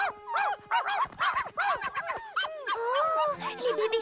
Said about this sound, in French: Les bébés chiens!